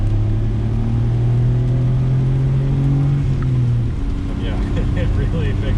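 A 1993 Suzuki Alto Works RS-R turbo with all-wheel drive and five-speed manual gearbox accelerates, its engine droning steadily and rising in pitch, heard from inside the car.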